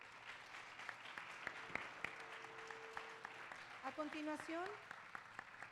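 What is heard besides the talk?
audience applause welcoming the speaker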